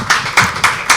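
Claps ring out in a short burst at a studio poetry performance, four distinct hand claps spaced evenly and fairly close.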